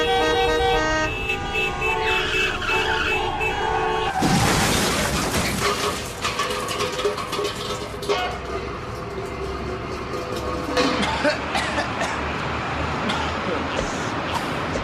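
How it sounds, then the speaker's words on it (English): Car horns toot in a repeating pattern among road traffic, loud bursts rising and falling over passing vehicle noise, with other sounds mixed in. "Horns make a pattern of sounds that we use to alert other drivers"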